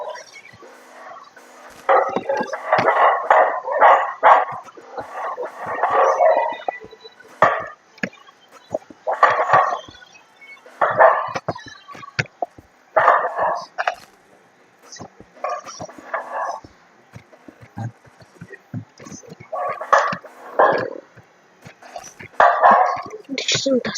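Dogs in the video game Minecraft bark repeatedly in quick clustered bursts, fairly close and loud, with yips scattered between the volleys and gaps of quiet.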